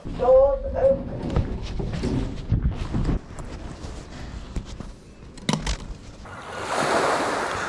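Surf breaks on the beach at Llandudno with wind buffeting the microphone. A person talks over the first part, and the wash of the waves grows louder and clearer toward the end.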